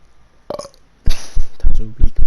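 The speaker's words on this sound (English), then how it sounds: "That was a weak burp." A short, weak burp comes first, followed by a louder belch-like sound, with throaty vocal noises close to the mic and nobody speaking.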